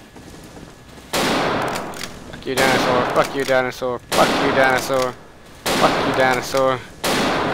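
Rapid gunfire bursts in the video game Dino D-Day, aimed at a T-Rex, come in several loud, close volleys separated by short gaps, while someone talks.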